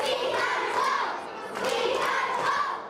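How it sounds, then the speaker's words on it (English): Students at a Catholic school in the Tennessee Valley react to a live papal announcement with an excited crowd roar of shouts, gasps and clapping. It swells twice and stays loud and busy throughout. "Gasps, clapping, shouts of excitement."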